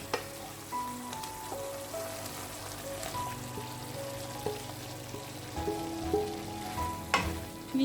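Chicken pieces drop into a pan of tomato masala for a homemade butter chicken roll, setting off a steady, close sizzle and fry with occasional stirring clatter and a louder splash near the end.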